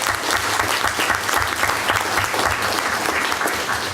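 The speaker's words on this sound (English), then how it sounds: "please, yes, applaud for Anthony and Brendan" An audience at a school board meeting applauds for Anthony and Brendan, a full, sustained burst of clapping that stays loud and steady, with faint voices underneath.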